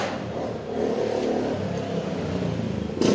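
An old 1989 motorcycle engine that has been running for years revs in a steady, rough drone, surging slightly partway through and rising in a louder burst near the end, with no voices.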